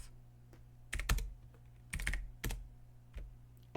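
Computer keyboard tapped during a file-system command lab, a handful of sharp, separate keystrokes and clacks spread over a few seconds against a faint steady hum.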